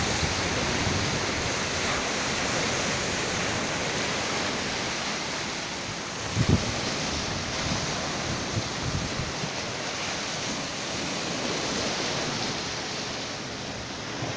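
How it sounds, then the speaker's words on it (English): Ocean waves wash steadily onto Bali Hai Beach in Pattaya, a continuous broad surf roar with a brief louder splash midway and no talking. "there's something really relaxing about the waves"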